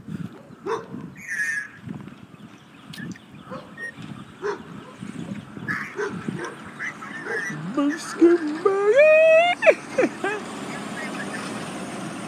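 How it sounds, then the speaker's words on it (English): Big dogs bark next door, a series of scattered barks at moderate distance mixed with other yelps and outdoor noise, with people talking over parts of it. "Big old dogs barking me every time I go by."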